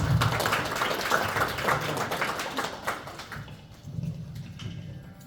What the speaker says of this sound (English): Let's give one big clap for Shikhar.